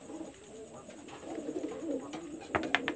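Red Pahari pigeons, a prized master breeding pair kept in a loft, cooing softly and steadily against a constant high background whine, with a few sharp clicks near the end.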